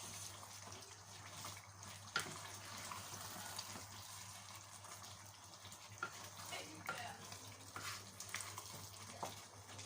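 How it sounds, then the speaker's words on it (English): Tomatoes fry quietly in a pot while a whipping spoon stirs and crushes them, giving a soft, continuous sizzle broken by occasional light scrapes. "if you keep on stirring, you find some, just crush it with your whipping spoon"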